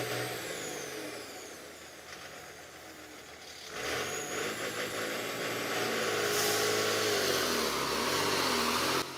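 A Scania 113 logging truck pulling a trailer on a flat, dry dirt road rumbles in the mid distance, its engine noise growing louder and fuller partway through and then holding a steady, heavy drone with no voices.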